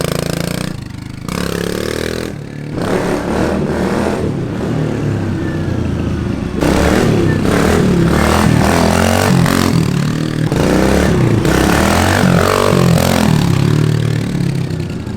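A motorcycle in a home garage setting revs and rides off for a test wheelie, engine rising and falling in bursts with clattering and scraping, moderately close and loud with no talk.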